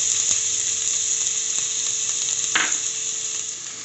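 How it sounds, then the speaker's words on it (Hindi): Onions frying in hot oil in a kadai, a loud continuous sizzle close up with a couple of faint clicks of a utensil and one brief scrape. "प्याज को लाइट ब्राउन होने तक फ्राई।"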